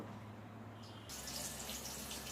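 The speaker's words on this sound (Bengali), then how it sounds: "তো আমার কাটা হয়ে গেছে কাঁকরোলটা, এবার ধুয়ে তুলে নেব।" Tap water runs steadily into a sink while freshly cut teasel gourd pieces are rinsed, a continuous splashing wash that grows fuller and louder partway through, with no talking.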